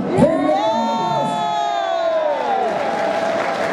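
A crowd applauds and cheers with whoops and shouts, a dense sustained roar of clapping and voices throughout.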